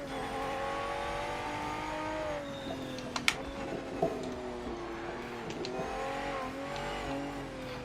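Race car engine in the PMR racing video game, a sustained high revving drone that rises and dips with throttle, with brief clicks and faint tire noise over it.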